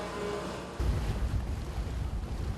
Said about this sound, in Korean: 하나둘씩 성산포항을 빠져나가는 배들